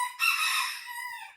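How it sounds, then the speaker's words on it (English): A small pet bantam rooster gives one short crow up close, a bright, loud, slightly strained cock-a-doodle-doo lasting just over a second against a quiet background. "You hear my pet rooster, Clyde? He's a little bandy rooster."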